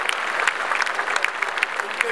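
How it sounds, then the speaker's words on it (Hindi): Applause at a BJP National Executive Meeting in New Delhi welcomes party workers: a dense, steady crowd clapping that fills the whole moment at an even level. "उसके लिए हम सब ने तालियां बजाकर स्वागत करना चाहिए"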